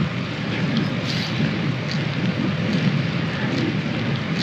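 Heavy pouring rain during a winter bike ride, a dense steady close wash of rain mixed with wind rumble, continuous throughout with no voices.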